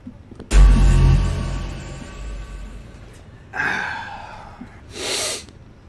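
Heavy breathing in the horror game Summer of 58: one loud, close, sharp snorting inhale, then two shorter hissing breaths a few seconds apart, with quiet between them.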